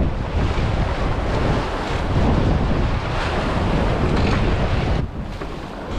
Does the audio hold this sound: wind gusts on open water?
yes